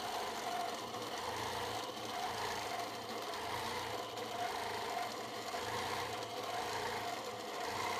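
Sewing machine stitching free-motion ribbon-candy quilting on a fabric table runner, a steady close whirring hum with rhythmic pulsing as the needle speed varies, running continuously with no voices.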